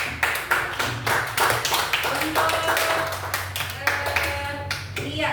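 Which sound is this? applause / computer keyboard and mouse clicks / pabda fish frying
applause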